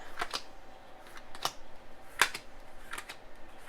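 Tarot cards are shuffled by hand. A series of quick, crisp riffling snaps comes at irregular intervals, close and fairly quiet, with no voices.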